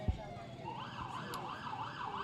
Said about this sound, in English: the Chadron ambulance is making its way down the street